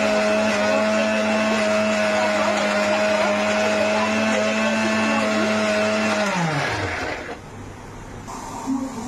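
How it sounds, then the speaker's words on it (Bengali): An electric spice grinder whirs loudly and steadily as it powders spices, then spins down and stops near the end, followed by quieter handling noise. "এই দেখো বন্ধুরা মশলাটা গুঁড়ো করে নিচ্ছি"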